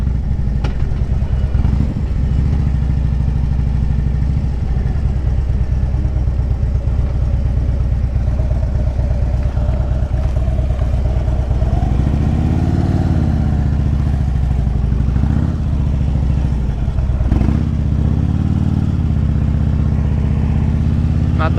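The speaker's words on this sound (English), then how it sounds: "Drop a gear. Oh, nice downshift." A 2010 Harley-Davidson Street Glide Ultra rumbles under a rider learning to handle it. The engine note drops and rises as it downshifts through gears, with steady mid-level engine noise and brief clattering, no talk.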